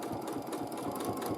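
Sewing machine free motion quilting a zigzag line, a steady rapid needle chatter heard close up, continuous and alone throughout.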